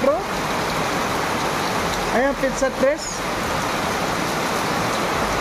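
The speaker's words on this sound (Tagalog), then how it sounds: "sobra po ang ulan ngayon guys" Heavy typhoon rain pours steadily as a dense, loud wash, with a person speaking briefly over it.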